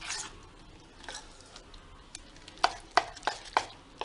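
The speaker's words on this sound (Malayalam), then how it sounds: "നന്നായിട്ട് മിക്സാക്കി കൊടുക്കാം." Stirring fried onions into a wheat-flour batter for ulli appam: soft wet mixing with a run of sharp ticking taps of spoon on the bowl rim, close and fairly quiet.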